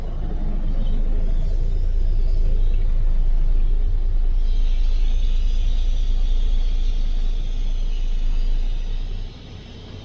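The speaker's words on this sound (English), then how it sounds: "I love to hear those little trucks." An old International cabover truck engine idles after starting, a deep steady rumble with rattling exhaust heard close and loud for about nine seconds before dropping off.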